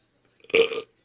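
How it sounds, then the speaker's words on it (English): A single loud, close belch after drinking bourbon, rising quickly and rumbling for about half a second before stopping, with no talk around it. "And then you burp."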